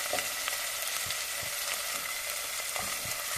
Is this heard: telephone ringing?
no